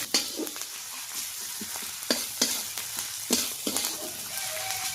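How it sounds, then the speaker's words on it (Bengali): Chopped onion frying in a pan for a dahi bhindi (yogurt okra) dish, a steady close sizzle with occasional sharper crackles and stirring scrapes, no talking. "কুচিয়ে রাখা পেঁয়াজ কুচিটা দিয়ে দেবো"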